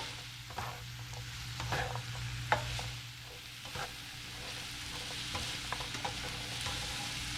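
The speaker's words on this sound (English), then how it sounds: "just going to give the carrots a good little toss around in there" Carrots and onion being stirred and tossed in a hot pan, with a steady low sizzle and scattered scraping clicks of a utensil throughout, close and without talk.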